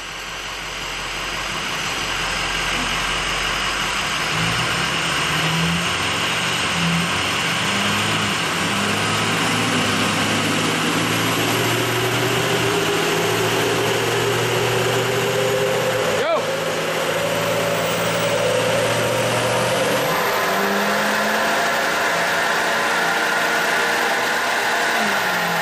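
A Ford Powerstroke 6.0L diesel truck accelerating from 50 to 85 mph, its engine drone rising steadily in pitch with a brief shift break midway, loud and continuous beneath road and wind noise inside the cab.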